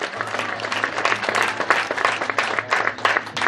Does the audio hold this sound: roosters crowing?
no